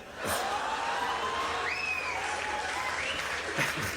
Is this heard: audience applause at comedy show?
yes